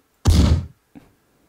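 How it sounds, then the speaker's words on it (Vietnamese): Artillery shelling in the video game Revenge of the C-Team lands as one loud, dull boom that fades quickly, followed by a faint smaller thump a moment later. "Và đây là cuộc pháo kích."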